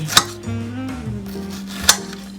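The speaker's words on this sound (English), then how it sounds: "Chopping off the top of the strawberry, and I'm putting all of my leftovers right here." A knife chops the tops off strawberries on a board in a home kitchen, with two crisp, sharp cuts spaced a couple of seconds apart over a low steady hum.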